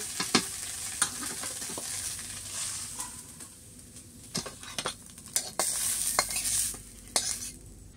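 Soybean chunks stirred in a frying pan during Indian village cooking: irregular spatula clinks and scrapes against the metal over a low sizzle, nearby and without talk.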